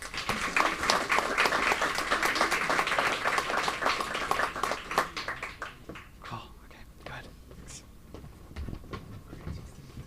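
At the 2018 Mind Sports Olympiad award ceremony, an audience gives award winners a dense burst of applause that fades over several seconds into scattered claps, with voices talking underneath.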